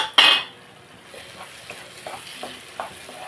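Spices including coriander and cumin powder fry in a pan, opening with a sharp sizzling burst, then a low steady fry with light, intermittent stirring scrapes.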